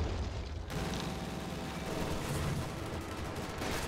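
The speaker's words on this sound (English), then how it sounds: "It's called a machine gun." Machine gun fire in the video game Company of Heroes 2 keeps up a dense, rumbling barrage of rapid shots and booms, loud and continuous with no pauses.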